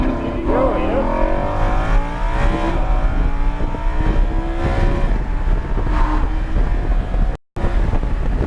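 A Lamborghini Huracan speeds down a race track back stretch, its engine a loud steady drone with rising tones throughout, wind buffeting the microphone, and a brief dropout near the end.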